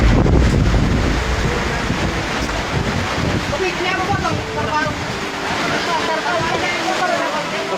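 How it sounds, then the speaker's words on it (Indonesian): Strong gusting wind sweeps across the site of an outdoor wedding reception, roaring loudly and buffeting the microphone without pause, while voices can be heard talking beneath it. "angin bertiup kencang sekali."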